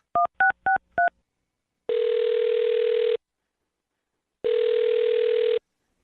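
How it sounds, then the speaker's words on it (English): Four quick touch-tone beeps as a number is dialed on a telephone, then two long ringback tones separated by a pause of silence, clean and isolated with no voices. "I'm going to dial her phone number right now"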